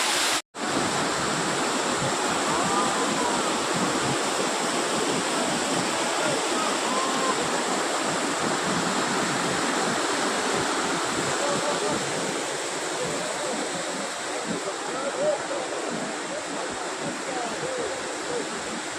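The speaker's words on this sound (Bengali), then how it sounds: "এটা হলো অযোধ্যা পাহাড়ে ঝর্ণা সবাই দেখতে পাচ্ছেন" Roaring waterfall in the Ajodhya hills, a loud, unbroken broadband rush of falling water lasting the whole stretch after a brief cut at the start.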